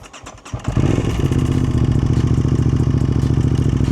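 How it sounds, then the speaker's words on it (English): An Aprilia RS 660 motorcycle, not run for about a month, cold-starts after a brief quiet moment: a quick starter crank, then the engine catches into a loud, steady, close-up idle with a rapid, throbbing pulse. "Maybe I was going to give us a cold start."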